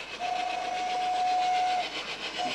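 A reproduced old local steam train sounds from a carnival float in the 2010 Tegelen parade: a long steady whistle tone over rhythmic chuffing, loud and continuous, then a brief second whistle toot near the end.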